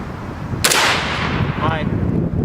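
An AR-15 fires a single 5.56 round at a mild steel target outdoors, a sharp loud crack followed by a ringing metallic tail that fades over about a second.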